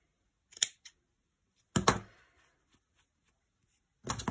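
Scissors trimming the wool of a yarn pompom for an Easter chick craft, a few brief, crisp snips, close and quiet, separated by silence.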